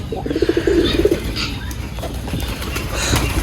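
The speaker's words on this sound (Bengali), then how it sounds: "তো আমার কবুতরগুলোকে ছেড়ে দিয়েছি" Pigeons coo in low, throaty, repeated calls close by on a winter morning, with a brief flutter of wings and light background noise.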